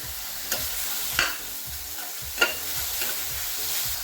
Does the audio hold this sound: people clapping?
no